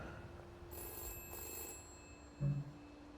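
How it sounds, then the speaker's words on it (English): A telephone rings in the video game We Happy Few, with a couple of short bell-like rings over quiet game ambience and a brief low thump near the end. "Ooh, phone."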